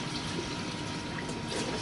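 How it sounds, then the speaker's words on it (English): Warm water poured onto a potted plant makes a steady close gushing, splashing flow that runs without pause for the whole stretch, with no voices over it. "I'm going to try to give it warm water"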